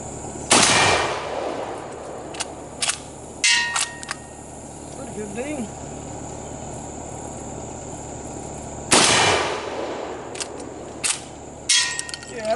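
An Ishapore RFI .308 rifle fires two loud, sharp shots spaced several seconds apart, each followed by a ringing clang from a distant steel target, with quieter handling noises between.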